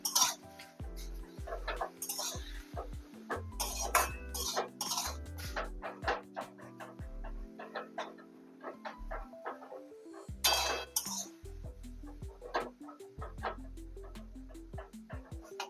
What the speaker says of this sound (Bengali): দিয়ে এবার এটাকে একটু ভালো করে নেড়ে নেব